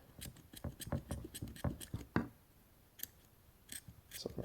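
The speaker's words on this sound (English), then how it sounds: "Cut off that excess. Wow, scissors are dull." Dull scissors snip and crunch through excess cordage at the end of a bracelet, a quick run of close, crisp clicking cuts followed by a few sparser snips.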